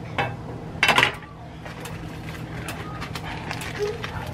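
Salmon goes into a pan to sear, with a short burst of clattering from the pan and utensils. A steady kitchen hum and a few light clinks follow.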